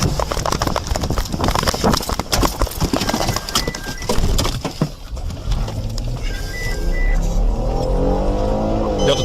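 A car accelerates away hard during a police stop, its engine and road noise loud and close, with shouted voices and chaotic commotion on top.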